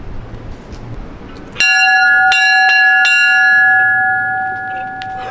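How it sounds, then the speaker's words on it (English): Bell at the Fremantle Roundhouse, a historic convict-era building, struck in a few clear, sustained tolls that ring on and slowly fade, heard alone against a quiet night background. "I'm just hearing that bell ring"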